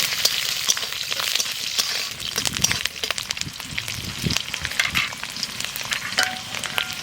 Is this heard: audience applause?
no